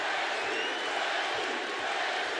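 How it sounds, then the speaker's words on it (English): A fight crowd in the Glendale arena roars in a dense, continuous swell of cheering and shouting, steady and fairly loud with no single voice standing out. "Glendale crowd getting behind one of their own, Justin Gaethje"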